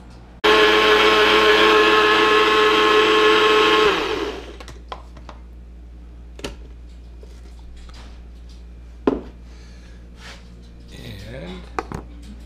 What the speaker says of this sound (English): just let the mixer mix it all up